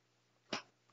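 A single short cough bursts out close to the microphone in a quiet room, followed by a faint breath and the start of another.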